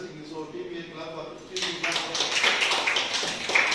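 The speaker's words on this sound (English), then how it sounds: "So Team A clap up." Audience at a school annual day quiz competition clapping for Team A, a burst of applause rising suddenly midway and continuing steadily, following a brief stretch of speech.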